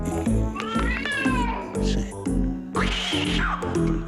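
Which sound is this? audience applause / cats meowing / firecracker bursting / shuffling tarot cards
cats meowing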